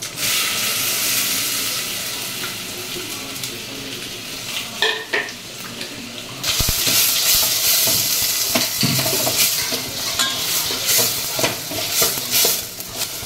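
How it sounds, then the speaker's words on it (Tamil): Onions and tomatoes sauté in a little oil in a steel pan, a close sizzle with repeated stirring scrapes and a few metallic clinks, the hiss turning louder and brighter midway. "வெங்காயம் வதக்கிறதுக்கு மட்டும் கொஞ்சமா வந்து ஆயில் போட்டுட்டு வெங்காயம் தக்காளி வதக்கிக்கிறேன்"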